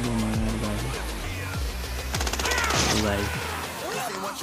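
Gunfire in the video game Gangstar Vegas, a loud burst of rapid automatic shots over game music and effects, with someone talking over the action.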